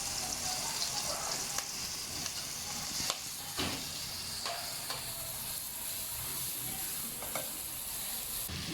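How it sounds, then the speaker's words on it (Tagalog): Ginger sizzles steadily in hot olive oil with a constant bright hiss, punctuated by a few sharp pops and utensil scrapes, close by and with no talking. "piritong-prito po yung luya"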